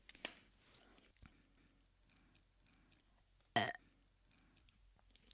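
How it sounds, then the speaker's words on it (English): A short, close burp erupts once amid quiet, soft mouth and chewing noises. "Okay, there's a burp."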